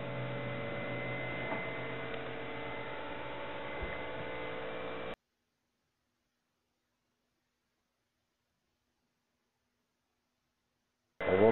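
A large 110-volt transformer powering a homemade induction forge supply with a 100-amp bridge and dimmer-controlled thyristor, giving a steady buzzing mains hum for about five seconds, then silence, then a brief return.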